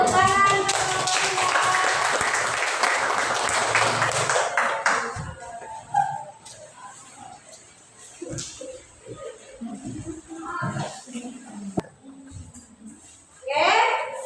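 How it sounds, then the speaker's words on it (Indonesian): Classroom clapping from a group of schoolchildren, a dense burst of many hands for about five seconds, followed by scattered taps, shuffling and a few children's voices. "Tepuk tangan."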